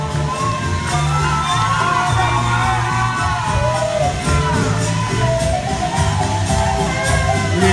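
A crowd at the Miss Chiquitita 2017 children's pageant cheers loudly for a young Bolivian contestant, with continuous whoops, shouts and high children's yells blending into a dense, unbroken roar.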